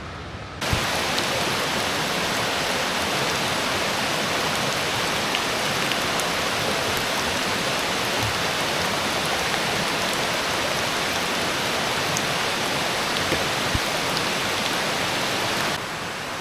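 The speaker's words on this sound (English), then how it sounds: "it's raining, kind of heavy" Heavy rain pours steadily in the forest of Savage Gulf while backpacking, a dense, even hiss that holds for about fifteen seconds with no voices.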